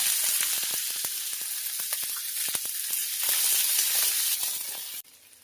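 Mustard seeds and sliced onion crackle and sizzle in hot oil in a pan, a dense steady frying hiss peppered with sharp seed pops, loud throughout before dropping away abruptly near the end.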